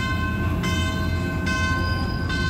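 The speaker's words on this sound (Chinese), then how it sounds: "这辆就是台铁公司新购入的欧系 R200 柴电机车。" A new European-built Taiwan Railway R200 diesel-electric locomotive arrives at Hualien hauling armored vehicles and containers, with a loud, steady tonal drone broken by bright recurring pulses, close by and alone.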